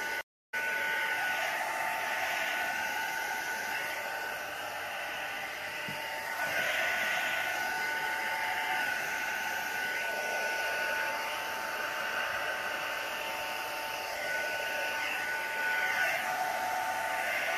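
A hair dryer held up high blows over alcohol inks on canvas, making a steady, loud, hissing rush of air that runs for about seventeen seconds after a brief cutout at the start, with slight swells in level.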